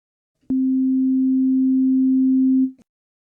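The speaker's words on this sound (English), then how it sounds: "I select a sine wave." A Yamaha Montage M synthesizer oscillator plays a pure, steady low sine tone that starts with a click, holds evenly for about two seconds, then cuts off, alone and clean.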